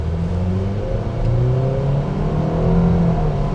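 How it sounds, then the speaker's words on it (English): A 2026 Nissan Sentra SR pulls away from a stop under hard throttle, its mid-pitched engine note climbing steadily through the gears in a close, continuous rev with no talking. "I'm going to stop and we're going to do the acceleration test."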